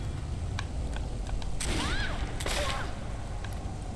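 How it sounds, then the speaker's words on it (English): Gunfire in the video game Risen 2: Dark Waters, a continuous crackle of shots and impacts with a burst of heavier blasts and whooshing effects in the middle, steady and fairly loud throughout. "I'm just gonna run around and shoot her."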